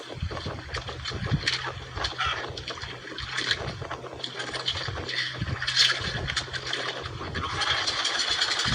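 A fishing boat engine on the water runs with a steady low drone, mixed with wind and water noise and faint voices in the background.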